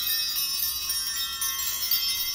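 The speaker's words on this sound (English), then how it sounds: "I want to ring the bells first of all and create some sacred space around this reading" Small bells ring before a tarot reading, giving a bright, sustained shimmer of high tones that carries steadily throughout with no talking.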